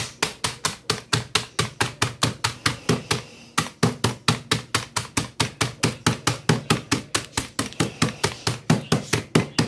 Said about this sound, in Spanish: voy a machucarle los chicharrones